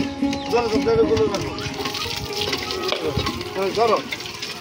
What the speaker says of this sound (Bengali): দেখি এই টিউবওয়েলে পানি হচ্ছে?